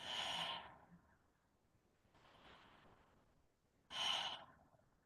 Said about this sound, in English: And now I want you to bring awareness to that circular breath. So breathing in and out.